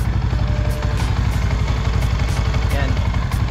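A Yamaha Sniper 150 motorcycle fitted with an MVR1 ECU revs hard near its limit. It holds a steady, loud, close engine drone with a fast pulsing beat throughout, and the level stays fairly even from start to finish.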